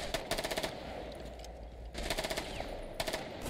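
Automatic gunfire in a video game comes in three rapid bursts, each a rattling string of close, sharp shots separated by short pauses.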